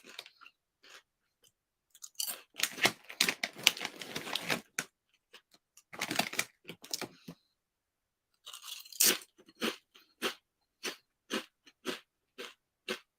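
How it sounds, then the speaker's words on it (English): Crunchy chips are chewed close to the ear, bursts of crisp crackling crunches in uneven runs broken by short silences, then a string of separate single bites toward the end. "The sound of chips chewing in your ear."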